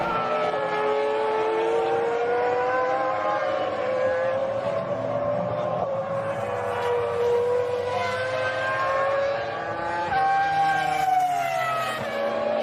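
Formula 1 race cars, including a Stewart with a Ford engine, scream past at high revs, a loud continuous engine whine rising and falling in pitch as several cars pass.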